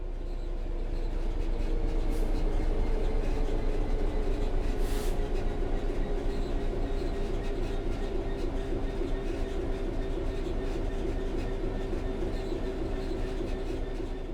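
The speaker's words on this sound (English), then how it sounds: "The train will then coast on level ground, and the train will only slow down very gradually." A train in the video game Train Sim World 3 coasts on level ground with the throttle at zero, a steady low rumble and faint rail clatter running evenly throughout, with birds chirping lightly in the background.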